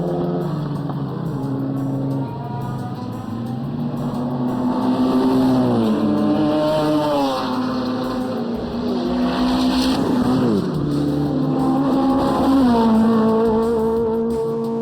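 Race cars, a Beetle and a CRX among them, circle a track with engines droning loudly and continuously, pitch rising and falling as they change gear and pass, with a hint of tyre squeal.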